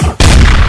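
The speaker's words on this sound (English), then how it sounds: "Yeah, them gunshots because we talking about Megan Thee Stallion." A loud, short burst of gunfire from a sound effect hits abruptly after a brief quiet moment and fills the remaining fraction of a second at full volume.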